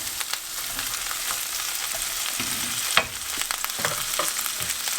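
Green beans and onions fry in a pan with a steady crackling sizzle, punctuated by a few clinks and stirring scrapes, at moderate level without talk.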